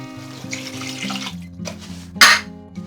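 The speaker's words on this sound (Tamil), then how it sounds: "இந்த புளி தண்ணியை வந்து ஊற்றிக்கலாம்" Tamarind water poured into a cooking pan with mashed tomatoes during a vegetarian feast lunch preparation, a steady running-liquid pour with a sharp louder splash near the end, heard alone over a low background hum.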